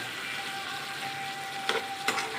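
Soybean chunks curry sautés in a pan with a steady, fairly bright sizzle, broken near the end by two sharp scrapes or clinks of stirring.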